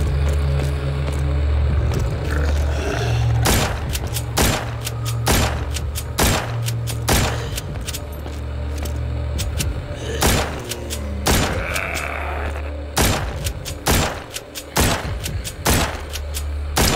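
Gunshots aimed at zombies in The Walking Zombies 2 game, a steady series of sharp cracks at irregular intervals over a constant low rumbling background drone.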